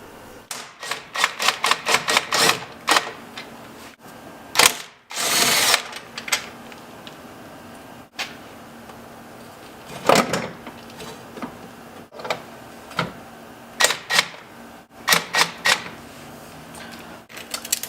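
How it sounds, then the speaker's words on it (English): Cordless impact wrench hammering in short repeated bursts while removing 12mm window bolts on a Nissan 350Z, close and sharp, with brief pauses and a hissing burst between runs. "taking it off with the impact should be fine"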